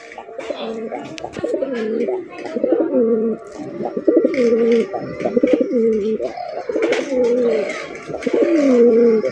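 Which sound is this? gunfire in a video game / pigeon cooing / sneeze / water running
pigeon cooing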